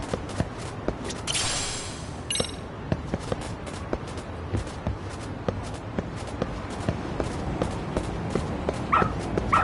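A dog in the video game Lost Judgment gives short barks and yips among crisp, steady footstep taps, with a brief hiss burst early on and a sharper yelp near the end.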